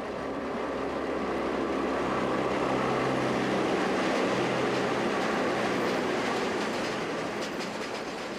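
A train grinds steadily along a steep double-track Swiss rack railway section beyond a village station, a continuous loud rumble with faint clicking wheels throughout.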